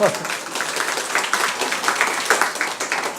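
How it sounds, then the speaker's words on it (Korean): Church congregation at a weekend revival service clapping for a young man, a lively, fairly loud patter of many hands that holds steady throughout. "이 인간이 잘 살도록 큰 박수 좀 주시면 좋겠어요"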